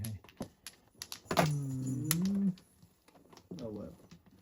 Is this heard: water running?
no